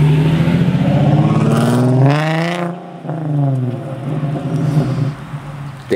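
A Nissan 370Z in neutral is revved twice, its engine note climbing, dropping away, then rising again over a steady idle. It is heard up close with no talking.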